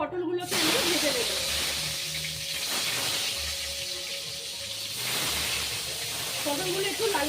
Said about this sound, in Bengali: এখনো পটলগুলোকে আমি ভেজে নেব।